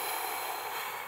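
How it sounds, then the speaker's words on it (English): A person takes a steady, loud, airy breath in through the nose, a continuous hissing inhale lasting about a second, heard close up with no other sounds. "we're gonna do a big deep breath in."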